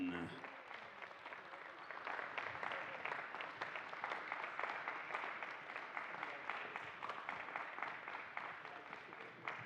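Crowd cheering and applauding for the Princeton team at a Major League Table Tennis match, a dense, steady wash of clapping and shouts filling the venue for the full stretch, loud and continuous.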